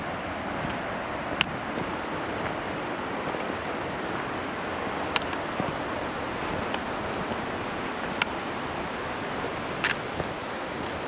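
Creek water rushes steadily through Oneonta Gorge on a freezing winter backpacking trip, a dense, even wash of noise with no voices, holding the same level throughout.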